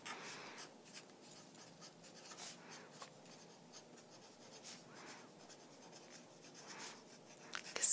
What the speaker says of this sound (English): I'm going to go ahead and write that down